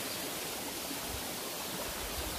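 The Singsing Kelesih waterfall in Tabanan, Bali, heard from its upper edge as a constant, dense roar of rushing water, loud and unbroken throughout.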